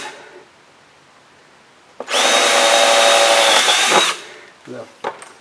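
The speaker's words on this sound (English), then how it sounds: "I've got 6 holes to drill here" A power drill bores a 3/16 screw hole in a wooden boat plank for a scarf repair, one close two-second high whine starting and stopping abruptly, followed by a few light knocks.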